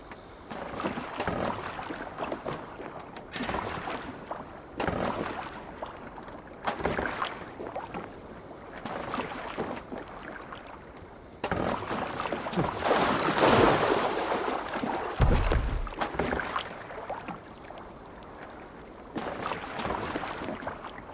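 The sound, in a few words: boat being steered in the video game Assassin's Creed Valhalla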